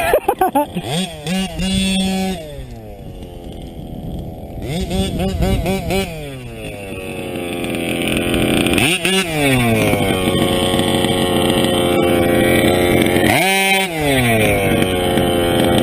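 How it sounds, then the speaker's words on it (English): A modded TLR 5B RC car engine with an OBR 34SS reed buzzes loudly up close. It revs up and down in repeated sweeps, then settles into a steady, high, raspy idle that runs on with only brief dips. "I noticed the idle went up. It's because it's running leaner."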